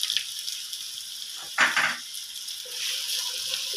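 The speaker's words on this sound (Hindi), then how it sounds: "इसे भी अच्छे से फ्राई करना है इसलिए मैं साथ ही डाल रही हूँ" Ginger garlic paste fries in a pan with whole garam masala, a bright steady sizzle with a sharp burst of crackling as it is stirred, continuing close and even afterward.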